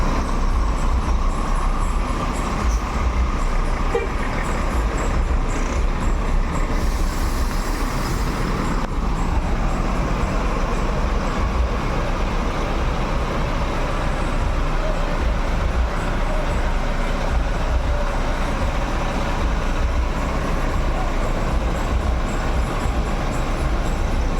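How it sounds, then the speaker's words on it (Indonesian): A large Jetbus 5 coach manoeuvres into a parking space, with a continuous loud heavy engine rumble and traffic-like roar that holds steady throughout, nearby and unbroken, with no clear voices. "ada space tuh untuk bus ini masuk"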